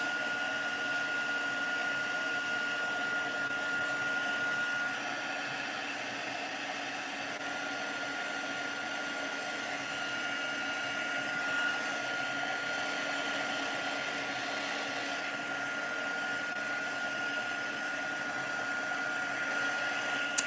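A hair dryer blows steadily over a freshly painted watercolour to dry it, a continuous close whirring hum that holds an even level for about twenty seconds with no talking.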